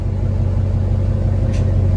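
A Ram RT truck idles steadily up close as it is shifted into reverse, a low continuous engine rumble with no clear change in pitch, plus one faint brief hiss partway through.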